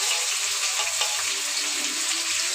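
Large mutton pieces frying in a pan of fried onions give off a steady, dense sizzling hiss that holds at an even loudness throughout, with no talking.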